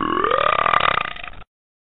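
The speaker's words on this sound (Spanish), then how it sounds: "Yo soy la ganadora del mejor eructo" One long, loud, croaking burp lasting over a second, close up and alone, cutting off abruptly into silence.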